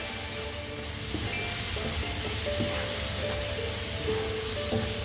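Chicken methi curry with chili flakes cooking in a pan, giving a dense, constant sizzle and bubbling hiss with occasional faint clinks and stirring, steady and close with no talk.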